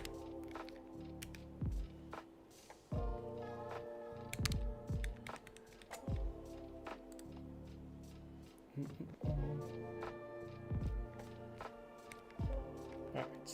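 Brisk typing on a keyboard with silent switches, a run of soft, muted keystroke thuds in quick irregular bursts, close and clear, with short pauses between flurries.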